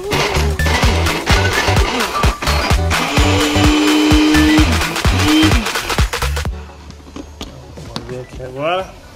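A Philips Walita RI2131 Duravita 1000W blender whirs loudly for several seconds, grinding and rattling as it crushes ice, then cuts off, leaving a quieter room with brief noises.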